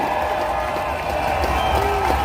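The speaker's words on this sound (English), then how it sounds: "let's hear a huge round of applause for everyone who took strike action today" Outdoor crowd at a teachers' strike protest in Manchester applauding and cheering, a continuous loud wash of clapping hands and raised voices sustained across the whole moment.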